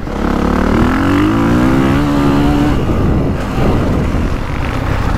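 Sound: 2025 Honda CRF450R dirt bike riding at motocross track

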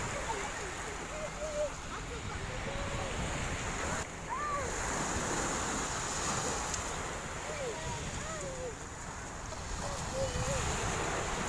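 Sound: sea waves at the beach in M'diq

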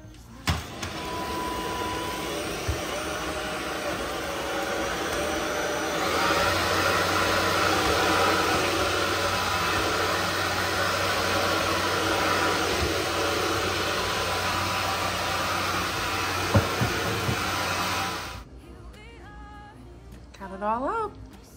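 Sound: Proscenic vacuum cleaner vacuuming up cat litter

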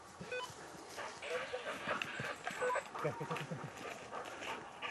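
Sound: dog during wild boar hunt

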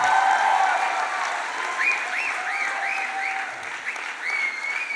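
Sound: big round of applause

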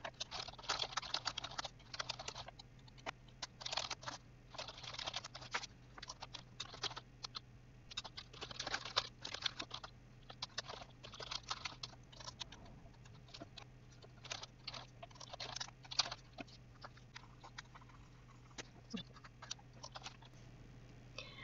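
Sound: computer keyboard typing while writing JUnit tests

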